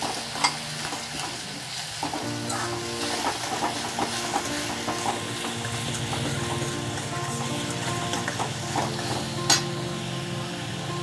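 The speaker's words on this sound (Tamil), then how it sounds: "இப்போ அரைச்ச பேஸ்ட்டு சேர்க்குறேன்" Ground onion paste sizzles in hot oil as it is stirred into a Tamil-style mushroom gravy, giving a steady frying hiss with scraping spoon strokes and occasional clinks against the pan, no voices.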